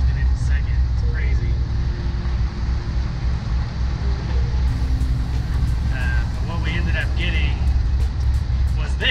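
Interior of a moving VW bus fitted with a custom billet CRC shifter, a loud, steady low engine and road rumble throughout as it downshifts, with a voice talking over it.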